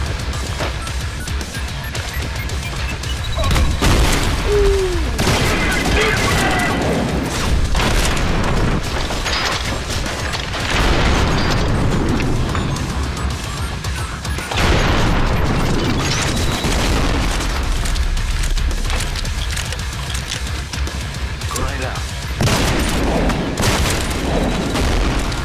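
Heavy booming blasts and rolling crashes from combat in the shooter game Trepang, including a grenade explosion, loud and dense throughout with continuous rumbling.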